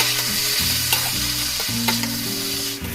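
Turmeric, coriander and cumin powder stir-fried in a pan for kanta chocchori. A steady, close sizzle is broken by scraping stirring strokes, with a low tonal drone underneath and no talking.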